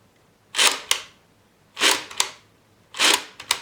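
A Graflex Speed Graphic camera's shutter is tripped three times, each release a sharp, close mechanical snap followed by a quick second click, separated by quiet pauses.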